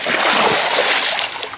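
A large white sturgeon dropped back into a river, giving a loud, close, broadband splash and churning slosh of water that runs steadily through the moment.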